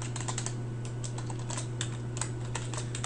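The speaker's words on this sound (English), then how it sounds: "Let's type in install.packages." Rapid, close keystrokes on a computer keyboard as a command is entered in R software, a steady run of clicks over a low constant hum with no talk.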